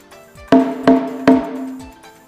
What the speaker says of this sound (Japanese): つけ締め太鼓にしては少し低い音になっていますので